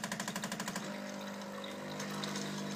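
A Bosch Tassimo T40 coffee machine runs with a fast pulsing pump rattle at first, settling into a steady hum and gurgle of liquid, fairly close.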